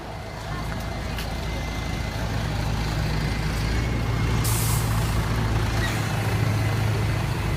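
A bus with air brakes at the Eagle's Nest upper bus depot, with a steady diesel rumble and hiss throughout and a brief sharp air-brake release burst partway through, amid crowd murmur in the open air.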